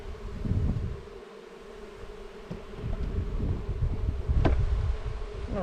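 A dense, steady buzz of many bees around an open hive during inspection, close and continuous, with soft rustling of frames being slid together and a brief sharp click near the end.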